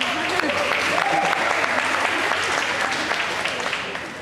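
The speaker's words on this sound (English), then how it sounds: "clap for Derek Jeter" Commencement crowd at Leon M. Goldstein High School clapping for Derek Jeter, a steady, full wash of applause filling the hall, slowly tapering toward the end, with a voice briefly audible early on.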